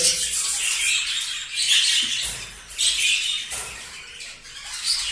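Budgerigars in a cage during moulting season giving harsh, scratchy squawks and chatter in irregular bursts, fairly close and lively, with no speech.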